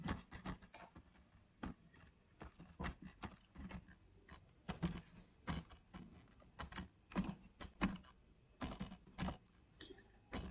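Arduino code being typed on a computer keyboard, with quick irregular clusters of close, crisp key clicks over about ten seconds, fairly quiet and with no voice.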